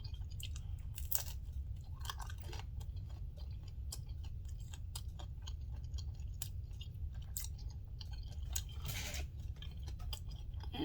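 Someone chews a ploughman's lunch with mustard, close up, with crunchy mouth clicks and bites over a low steady background rumble and no talking.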